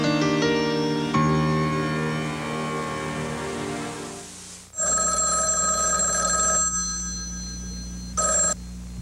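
A telephone rings in a 1987 TV commercial, with bright repeated trills over a music bed that drops out partway through, then two sharper bursts of ringing toward the end.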